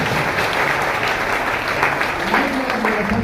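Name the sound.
audience applause at a seminar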